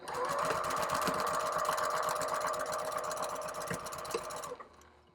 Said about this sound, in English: I'm going to go ahead and run 2 rows of stitching